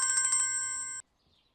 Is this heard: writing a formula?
no